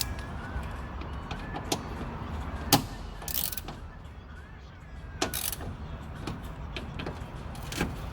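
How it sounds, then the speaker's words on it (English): A ratchet tightens bolts inside the door of a 1985 Mercedes 380SL R107, giving scattered sharp mechanical clicks and clacks up close against a quiet room. "I'm starting with tightening my screws here, my bolts"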